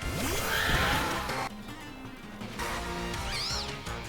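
A synthesized, electronic horse-like whinny, a Pokémon cry, rings out with warbling pitch sweeps, followed by bursts of crunchy game sound effects, fairly loud and without speech.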